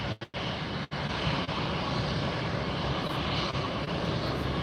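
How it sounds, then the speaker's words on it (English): American Airlines Airbus A321 jet taxiing at Fort Lauderdale International Airport, a steady broadband engine roar that holds at an even level from start to finish, with a few brief dropouts near the beginning. "And there's American Airlines Flight 1380 headed up to Philadelphia. That's taxiing up here our way now."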